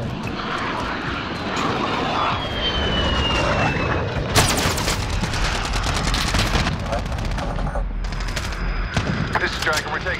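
Gunfire in Call of Duty Modern Warfare: rapid machine-gun bursts rattle from the middle onward over a steady aircraft engine drone, loud and close, with occasional voices in the mix.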